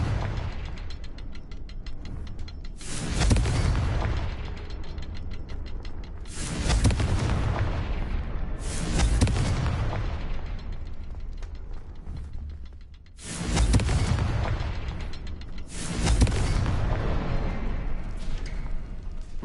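Confringo blasting spell in a Hogwarts video game, several heavy booming blasts spaced a few seconds apart, each followed by a rumbling decay, with mechanical clanking between them.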